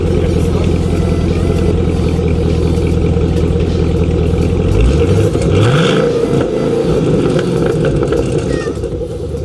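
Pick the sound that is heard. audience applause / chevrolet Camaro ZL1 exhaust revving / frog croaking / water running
chevrolet Camaro ZL1 exhaust revving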